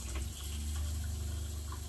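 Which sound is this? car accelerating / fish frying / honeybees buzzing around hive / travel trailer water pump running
travel trailer water pump running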